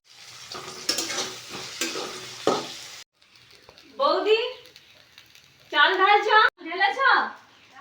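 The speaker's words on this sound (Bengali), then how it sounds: "সব কিছু সবজি কেটে কুটে এখন ভাজতে বসিয়েছি" Chopped vegetables frying in a pan for chire pulao, a flattened-rice dish, sizzling with scraping stirs for a few seconds before a voice speaks over the quieter cooking.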